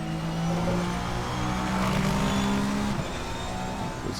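A Lexus race car in the Assetto Corsa racing sim drives close by, its steady engine drone and harmonic whine holding loud through the pass, with a shift in pitch near the end as it moves away.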